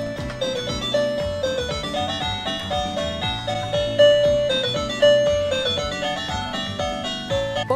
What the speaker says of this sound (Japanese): 音楽のボタンを押すとピカピカ光って音楽が流れるよ。